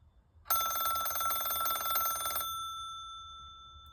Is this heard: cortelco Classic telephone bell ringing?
yes